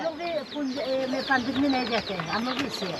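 At a tribal market in Arunachal Pradesh, a chicken clucks repeatedly in short, close, wavering bursts, with market bustle around it.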